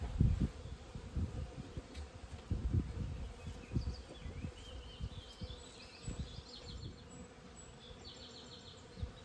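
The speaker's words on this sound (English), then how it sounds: "they're some kind of black bees" Many black bees buzz close by at a hive in a dense, wavering drone, with louder passes swelling and fading and occasional higher-pitched whines; no voices.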